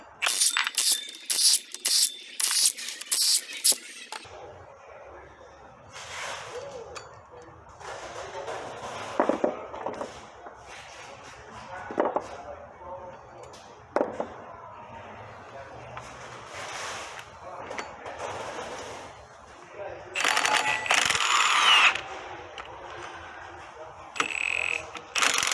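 Socket ratchet work removing flywheel bolts on a Honda K20 engine during a clutch and flywheel swap on an Acura RSX: rapid ratchet clicks at the start, then scattered clinks, clanks and tool knocks, with someone talking quietly throughout.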